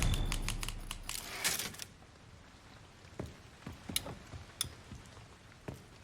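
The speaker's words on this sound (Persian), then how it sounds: "با ماشین تایپ." In the video game Resident Evil 9, a typewriter save sound plays as a burst of rapid mechanical key clacks, then a few sparse, separate strikes, fairly quiet and with no talking.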